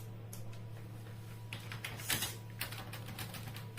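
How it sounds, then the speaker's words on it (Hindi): Light keystrokes on a CT scanner console keyboard, a loose run of close clicky taps in short bursts over a steady low machine hum. "पहले आपको टाइप करना है राइट ऑर्बिट सैज लैटरल टू मीडियम"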